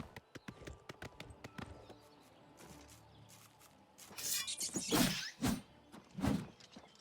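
Horse hooves clip-clopping in Oblivion Remastered, a string of crisp, distinct hoofbeats at first, then heavier, louder thuds and scuffs as the horse moves closer, with no talking.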